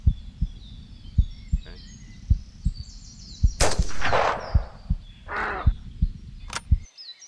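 A hunting rifle fires once in the video game Hunting Simulator. The shot is a sharp, loud crack with a short tail, heard over steady heartbeat thumps, and a second fainter burst follows.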